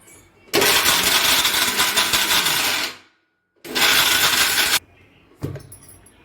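A mixer grinder grinding chopped dry fruits whirs loudly in two bursts of several seconds each, with a short pause between, then a brief clatter near the end.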